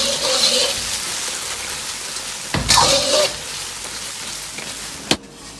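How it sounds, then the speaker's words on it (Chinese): Pork tenderloin is stir-fried in sweet and sour sauce in a wok, giving a steady, close sizzle with a louder burst as the meat goes in and a sharp clack of utensil near the end. "接着倒入里脊，快速的翻炒均匀"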